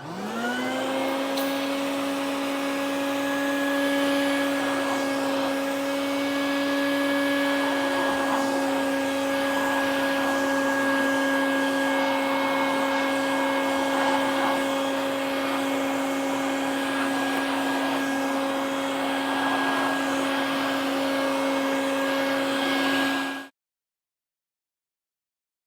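Vacuum cleaner with a pet hair remover attachment runs on carpet, a steady loud whine with a strong constant pitch that starts up, holds evenly, then cuts off abruptly.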